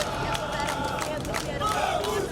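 Flamengo supporters chanting together outside in a loud, dense crowd, voices blending into continuous rhythmic singing and babble with no pauses.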